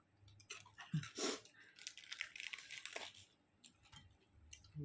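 Loud, close chewing of food with crunchy bites and wet mouth sounds in irregular bursts, heard without speech.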